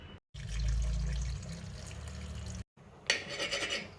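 Tap water runs over a frozen goat leg in a sink, a steady close splashing and rushing broken by brief cuts, ending in brighter sputtering spray, with no voices.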